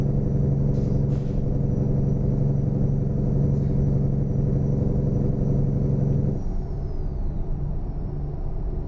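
A heavy truck engine's loud, low rumbling engine-brake drone in American Truck Simulator that cuts off abruptly partway through, leaving a quieter engine hum.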